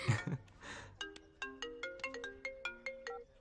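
Mobile phone ringtone playing a bright, plucked melodic tune of evenly spaced notes, fairly quiet and nearby, following a brief soft rustle at the start, with no talking.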